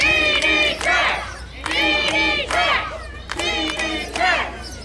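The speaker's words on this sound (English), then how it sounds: "This crowd definitely behind Ron Mathis of DD Trash." Wrestling crowd at an ASW Coal Fest match chanting and yelling for Ron Mathis in three loud, rhythmic bursts of massed voices, each swelling and falling back, with no separate talk over them.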